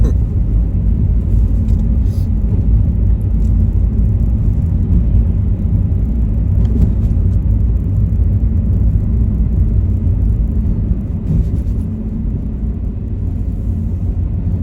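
Cars roll along a snowy road in the UK, giving a continuous low rumble and tyre whir that stays steady throughout, heard from the roadside.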